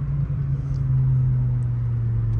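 A BMW G82 M4 sports car engine idles with a deep, steady rumble, close and loud, holding an even throb throughout with no voices.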